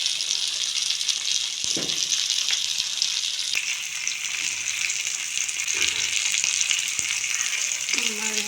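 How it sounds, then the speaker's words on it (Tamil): Fish frying in a pan hisses and crackles continuously and loudly, with a few sharp clicks and a faint voice near the end. "ஃபிஷ் ஃப்ரை பார்க்குறேன்"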